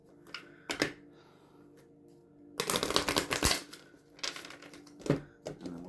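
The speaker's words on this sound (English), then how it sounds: "I have to shuffle it twice." A large tarot deck being riffle-shuffled, with short papery flutters followed by a longer burst of cascading cards and some soft tapping and handling, close and fairly quiet.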